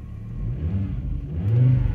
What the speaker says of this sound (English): Revs up nicely. Sounds phenomenal.